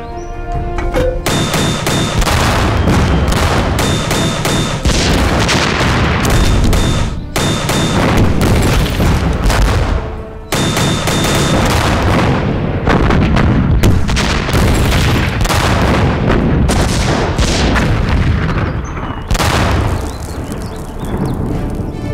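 Artillery cannon fire in a war film: loud, dense volleys of booming blasts and crackling gunfire roll on almost without pause for over twenty seconds, with only a couple of brief lulls.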